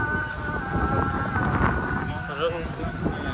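Wind blowing at Umbrella Beach, a rough gusty rumble against the microphone under a person talking throughout.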